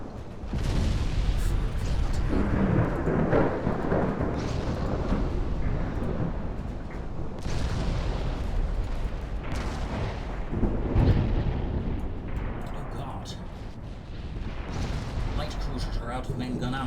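Heavy naval guns boom repeatedly with shell impacts and explosions in a warship battle in Ultimate Admiral Dreadnoughts, a loud continuous barrage of overlapping blasts with someone talking over it.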